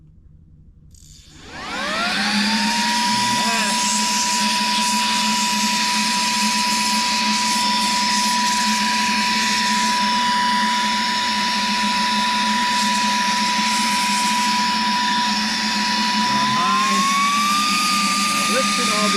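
A Saker 3-in-1 vacuum cleaner switches on and runs at full power, a loud close whine rising quickly to a steady high pitch and holding for many seconds, with a brief pitch shift near the end.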